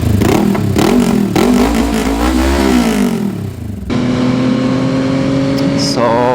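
A Yamaha XSR 900 motorcycle ridden on twisty roads, its engine loud and close, revving up and down through the gears with rising and falling pitch, then settling into a steady high drone with wind rush.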